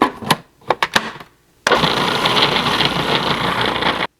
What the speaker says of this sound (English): I'm gonna try to grind it again before I put in my shrimp.